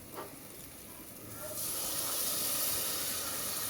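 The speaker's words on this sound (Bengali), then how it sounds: "অল্প কিছু পানি অ্যাড করে দেব।" Water is added to ginger and garlic paste frying for a chicken curry: a faint background sizzle gives way to a louder, steady steam hiss that holds to the end.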